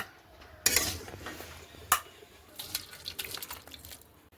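Finished bottle gourd curry is scooped from the cooking pot into a bowl with a metal spoon: two sharp clinks of metal on metal, then a quiet run of scraping and tapping against the vessel, close and faint, with no voices.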